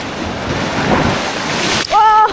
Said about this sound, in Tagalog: Sobrang lakas ng alon sa gilid.